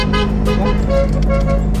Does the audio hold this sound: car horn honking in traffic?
yes